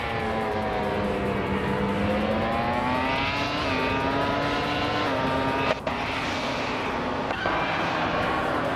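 Race cars roar off the line in a video game race at Suzuka Retro, a dense whining engine drone with rising pitch as they accelerate, loud and continuous, with a couple of brief sharp ticks.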